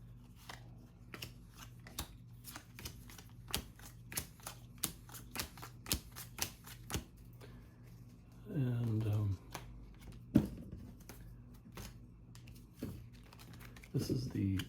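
Playing cards for the Halls of Montezuma board game are handled and drawn out, five per player, making a run of light, crisp clicks and snaps at close range, with short fuller rustles now and then.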